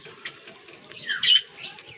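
Pigeons let loose to fly from a rooftop loft make a few short squawks and chirps, with faint wing flutter, heard alone in a quiet spot.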